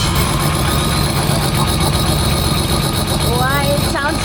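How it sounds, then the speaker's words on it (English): A rebuilt Land Rover's V8 engine idles with a loud, steady, deep rumble and a fine mechanical vibration, running close by, while a voice briefly speaks near the end. "it sounds like a V8. Love that sound."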